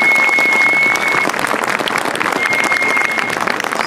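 A speedway crowd applauds the volunteers at the track, a dense, loud, steady wash of clapping that carries on throughout, with a faint voice underneath.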